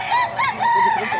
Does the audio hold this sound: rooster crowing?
yes